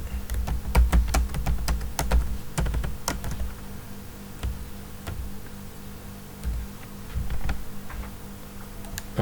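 Fingers type code on a computer keyboard, a close run of crisp clicking keystrokes in quick bursts with brief pauses between them.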